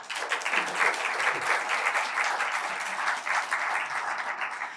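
An audience at an annual conference on higher vocational education claps steadily, a dense, even wash of many hands that holds its level throughout, with no voices over it.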